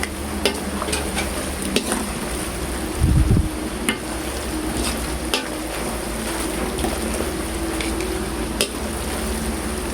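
Sauce being stirred into spaghetti noodles, a constant dense hiss with occasional soft scraping and one brief louder stir, loud and close with no talking.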